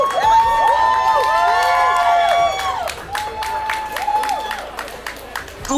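An audience at an outdoor inclusion walk event cheers with rising whoops and shouts, then breaks into scattered clapping that continues more softly toward the end.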